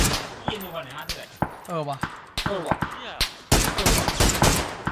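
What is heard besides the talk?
gunfire in the video game PUBG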